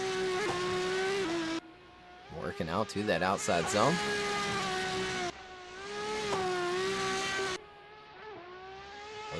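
Drift car in a virtual drift racing game, engine holding a steady loud droning note with rising and falling revs and a burst of wavering tire squeal mid-run, under continuous race commentary.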